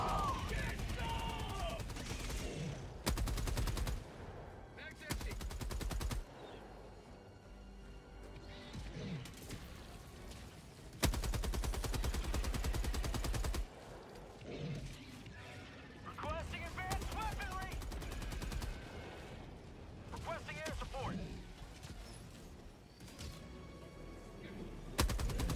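Gunfire in Helldivers 2, as guns hold chargers in place, comes in loud repeated bursts and volleys throughout, broken by short lulls, with players talking over and between the shots.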